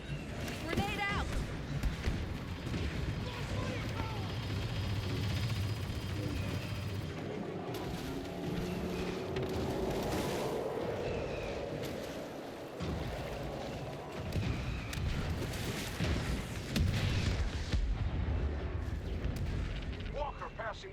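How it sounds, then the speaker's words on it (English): A grenade detonates in a sci-fi shooter video game, producing heavy booming blasts and rumbling gunfire amid a dense, continuous battle soundscape, with voices calling out over the din. "Grenade out!"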